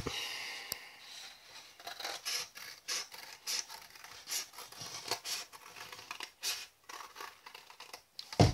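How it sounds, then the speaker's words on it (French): Scissors snipping through material for a homemade American-style mailbox craft, a close, steady series of short rasping cuts with small pauses between strokes, no talking. "vous n'avez plus qu'à prendre votre paire de ciseaux et couper"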